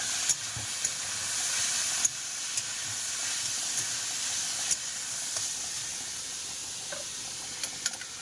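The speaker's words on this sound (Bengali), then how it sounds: "এদিকে আলুটা সিদ্ধ হচ্ছে।" Potatoes boiling in a pot on a home stove, a steady close hiss and bubbling simmer running throughout, broken by a few small clicks and knocks.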